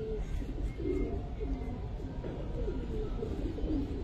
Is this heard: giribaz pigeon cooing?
yes